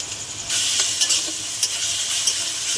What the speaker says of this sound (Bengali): আদা রসুনের পেস্ট দিয়ে দিলাম, ভালো করে কষে নেব।